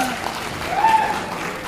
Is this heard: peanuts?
no